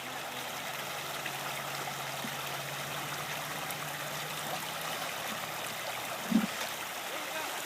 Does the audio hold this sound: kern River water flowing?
yes